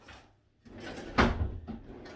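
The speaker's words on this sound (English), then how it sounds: "So let's see if it's in the drawer." A drawer slides open during a search, a short wooden scrape and thump with a louder knock partway through, close and fairly quiet.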